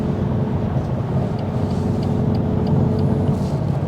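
BMW M2 Competition with the S55 engine on a morning drive, heard from inside as a steady, loud low engine drone and road rumble, with faint ticking noises over it.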